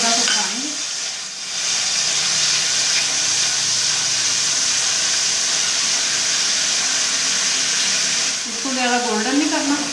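Garlic ginger paste fries in a little oil over a low flame, giving a continuous close hiss and sizzle that holds steady, with a voice speaking briefly at the start and again near the end.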